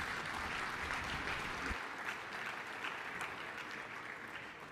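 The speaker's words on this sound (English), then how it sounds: "Let's give him another round of applause." A conference audience at a military symposium in Huntsville, Alabama gives a round of applause, a soft, steady patter of many hands heard from a distance with no voices over it.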